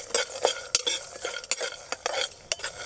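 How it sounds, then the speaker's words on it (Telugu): Coriander, cumin, cloves, cardamom and cinnamon fried and stirred in a pan, with constant close scraping, clinks and a soft sizzle underneath, no voices. "ఈ కొత్తిమీరలు, జీలకర్ర, ఈ లవంగ, యాలక్కాయ, చెక్క ఇవన్నీ దీంట్లోనే వేసి వేయించుకుందాం"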